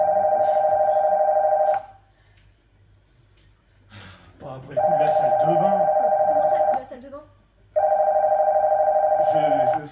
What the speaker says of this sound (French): Je ferais mieux d'aller répondre au téléphone.